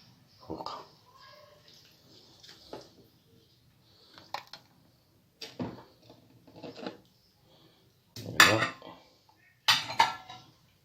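Crushed biscuits are stirred together with melted butter in a bowl, giving scattered scraping clinks of a utensil against the dish with quiet gaps between them, some louder near the end. A voice speaks briefly between the knocks.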